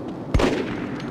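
A single sharp gunshot from the PS2 first-person shooter Cold Winter, a loud close crack with a short decaying tail over the game's background sound.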